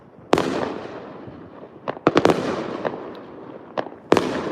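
New Year's Eve fireworks for 2025 crack and boom outside a balcony. Several sharp bangs ring out, one after another over a steady crackling rumble, with no talking.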